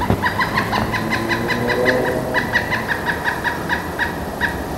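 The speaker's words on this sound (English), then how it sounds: "learning to hear the difference between the flicker making this kind of sound" A northern flicker repeats a rapid series of loud, sharp calls in quick rhythmic bursts, close by, with a low engine hum underneath.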